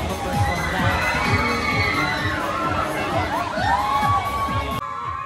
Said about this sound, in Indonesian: Untuk suara teriakan ini bukan karena takut ya